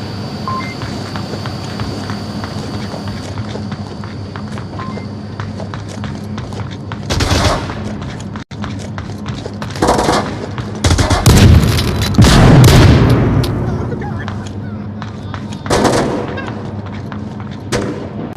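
Repeated shotgun blasts from a video game: a series of sharp booming reports spaced a few seconds apart, with a dense cluster of loud shots near the end over a steady background hum.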